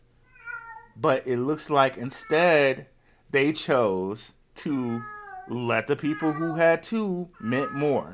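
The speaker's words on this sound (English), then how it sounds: "I'm so sorry about that cat" A cat meows several times close by, its calls overlapping continuous speech from a person talking throughout.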